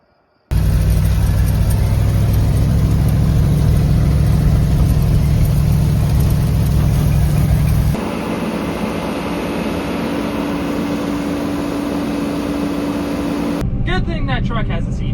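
A grain truck engine runs loud and steady from inside the cab with the driver's door removed, a heavy low drone that shifts to a rougher rumble partway through and ends in a burst of wind noise.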